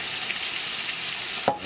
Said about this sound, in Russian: Вот она щучка жарится, и с картошечкой мы сейчас ее будем